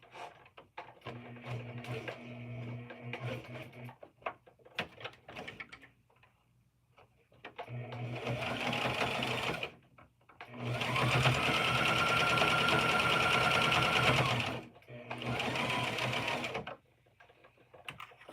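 A sewing machine runs in several bursts of a few seconds each, with a steady mechanical whir and needle clatter. The runs are separated by pauses with lighter ticks and handling noises, heard close up.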